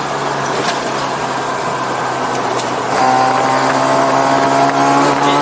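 Mazda RX-7 rotary engine droning steadily while cruising along, a close, continuous hum with a slight rise in loudness partway through, no talking.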